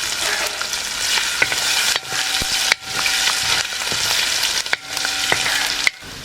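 Chopped ginger frying in oil for a tuna fish pickle, with loud, bright sizzling broken by a few short pauses and stirring scrapes, close up and without voices.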